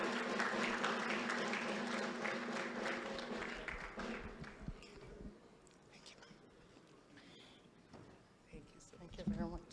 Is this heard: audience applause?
yes